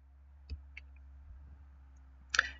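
A few sparse, quiet clicks on a computer keyboard while a command is typed, spaced irregularly with a slightly louder cluster of keystrokes at the end, in a near-silent room.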